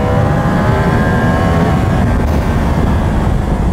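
A loud motorcycle engine revving and accelerating continuously after a shift back into second gear, with a rough, rising mechanical roar and no voices.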